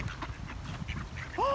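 Ducks quacking near a pond where geese are also present, a few honking quacks rising over busy outdoor background noise, with one loud, clear call at the end.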